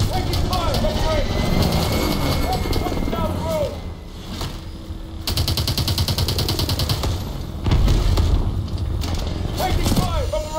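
Dense, continuous gunfire and battle noise in Call of Duty Advanced Warfare, with rapid bursts and explosions layered under shouted voices and engine roar throughout.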